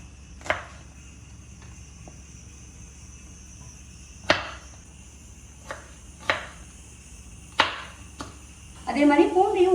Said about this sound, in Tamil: நம்ம தாளிக்கிறதுக்கான வெங்காயத்தை நறுக்கி வச்சுக்கலாம். நல்லா நீளமாக நறுக்கி வச்சுக்கோங்க.